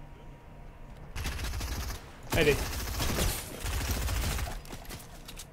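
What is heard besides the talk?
gunfire in a video game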